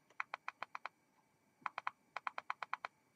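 Five quick button clicks on an Asmodus Minikin v1.5 150-watt vape mod, played as two short bursts of sharp, close, evenly spaced taps, with no voice.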